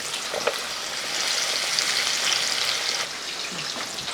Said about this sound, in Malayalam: ഇനി നമുക്ക് ഈ മാങ്ങ ഈ നല്ലെണ്ണയ്ക്കകത്തിട്ട് വറുത്തെടുക്കണം